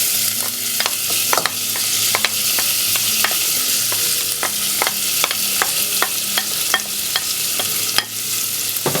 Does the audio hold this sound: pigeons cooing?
no